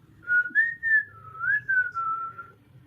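A man whistles a short wavering tune as he walks in, clear and close, with faint background murmur underneath.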